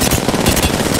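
Rapid gunfire in the Apex Legends video game, a dense, loud burst of automatic shots that fills the whole moment with no talking over it.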